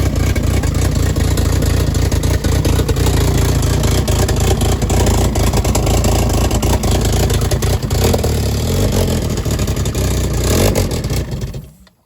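A big-turbo 1.8T engine, started for the first time, runs steadily at a loud, close idle with a rough, clattery mechanical tone and no talk, until it abruptly cuts out and dies at the very end.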